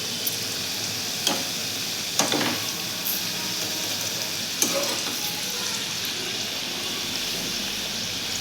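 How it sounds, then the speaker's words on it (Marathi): Sesame-filled karanji pastries deep-frying in hot oil over a low flame: a steady, dense sizzle and crackle throughout, with a few sharper pops and ticks breaking through. "आता आपण यामध्ये करंजे घालून घेऊयात."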